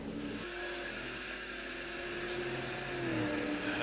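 Super late model race cars circle a track, with a steady engine drone, a rising whine and faint tyre noise that swells slightly toward the end.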